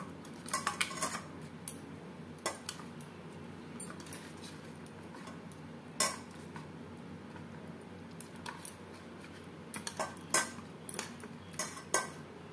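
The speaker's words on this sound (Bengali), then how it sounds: "হলুদের গুঁড়ো, লবণ হলুদ মাছের সাথে বেশ ভালো করে মেখে নেব।" Catla fish pieces being mixed by hand with turmeric powder and salt in a metal bowl, producing scattered light clinks and scrapes with soft squishing under a steady background hiss.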